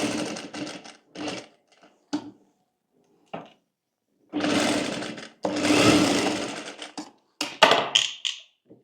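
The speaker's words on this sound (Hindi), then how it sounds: "अभी के लिए हम सिलाई लगा लेते हैं" A sewing machine stitches baby jumpsuit fabric in several short whirring bursts separated by pauses, then longer continuous runs of close, loud mechanical stitching.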